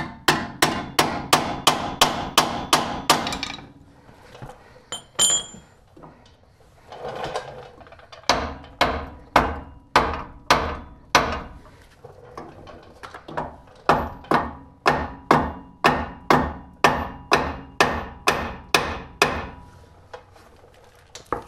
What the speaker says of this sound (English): Let me try to get my bigger chisel in here at this point.